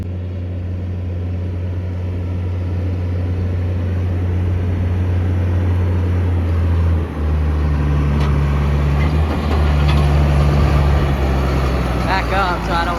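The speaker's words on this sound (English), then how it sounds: "Y'all can hear that 4960 in the background." A John Deere-style 4960 tractor engine runs out in a field, a steady low droning rumble in the background with faint wind and bits of handling noise over it.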